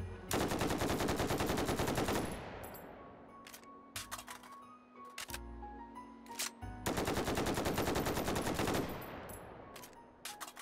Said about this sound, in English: Celebratory gunfire!